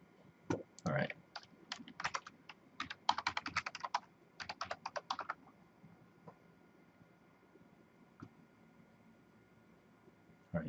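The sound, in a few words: typing a password on a computer keyboard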